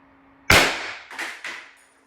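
Three shots from an X.68 airsoft gun running on HPA, a loud sharp crack followed by two quicker bursts, close and alone.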